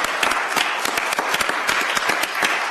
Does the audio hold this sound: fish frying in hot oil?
no